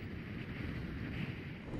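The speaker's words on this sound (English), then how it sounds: "It's meant an awful lot of noise and rattling of the tent through the night and through the day." Strong storm wind gusting steadily against a tent, with the fabric buffeting and rattling in a continuous close, noisy roar and no pauses.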